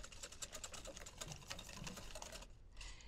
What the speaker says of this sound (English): Give this a little whisk.